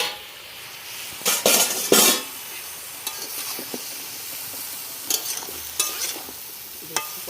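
Pointed gourd frying in a little oil in a pan, with a soft steady sizzle and several bursts of stirring and utensil scraping, no voices.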